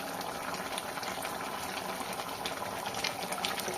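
Cauliflower and potato curry with gravy simmering in a pot, giving a steady close bubbling hiss with small popping bursts throughout, no voices.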